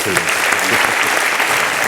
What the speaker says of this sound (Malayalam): അപ്പോൾ അതിന് ഒരു കൈയടി ആദ്യം കൊടുക്കാം